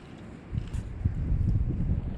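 Wind rises on the water during a trout fishing outing, a low rumbling buffet against the microphone that swells in after a quiet start and keeps on moderately loud, with no one speaking.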